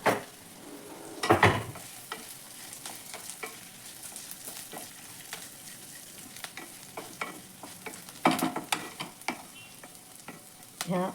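Cumin and spices roasting in a pan, sizzling steadily while a spoon scrapes and stirs in repeated strokes, close and fairly quiet, with no talking.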